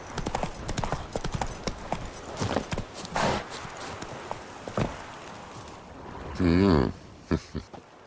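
Hooves of Roach, the horse in The Witcher 3, clip-clopping in a fast, steady rhythm across the ground, close and clear, with a brief whinny near the end.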